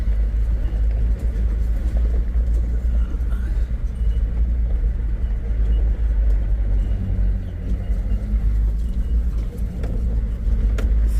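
A 4x4 engine labours up a hill in low-range third gear, a steady close rumble that holds an even drone throughout with no gear changes.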